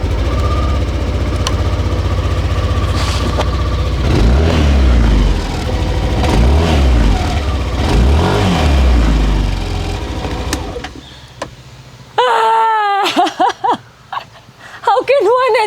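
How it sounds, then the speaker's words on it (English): A Yamaha Aerox 155 scooter engine, sharing its engine with the Yamaha R15 v4, revs and rises in pitch through several accelerations, loud and close with wind noise, then cuts to quieter speech near the end. "Now, same engine is playing inside of the Aerox."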